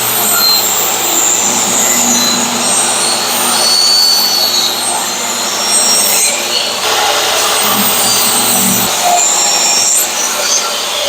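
A saw rips 1-inch strips from a board, a loud, sustained high-pitched whine with rising and falling tones as each cut proceeds, without talk.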